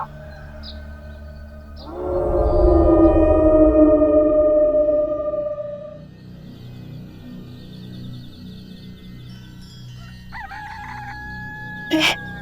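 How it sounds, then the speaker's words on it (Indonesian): A rooster crows once at about 1 a.m., loud and drawn out over about four seconds, followed by quieter background noise and a faint short call near the end. "Kenapa jam segini ayam bunyi?"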